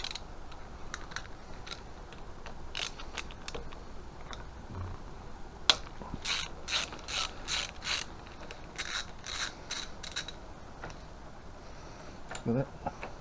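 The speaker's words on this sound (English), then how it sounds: "5mm Allen key to loosen up this bracket." Clicking ratchet and metallic ticks as a 5mm Allen key loosens the clutch bracket on a Suzuki Intruder motorcycle, a run of quick close clicks in bursts with short pauses, faint and alone.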